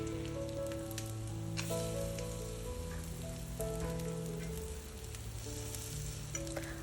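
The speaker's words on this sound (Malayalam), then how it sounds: "2 സൈഡും ഒന്ന് ചെറുതായി കളർ മാറി വരുന്ന വരെ ഒന്ന് ടോസ്റ്റ് ചെയ്തെടുത്താൽ മതിയാവും" Nutella bread toasting in a pan gives off a steady, soft sizzle that runs the whole time, with faint frying crackles under quiet background music.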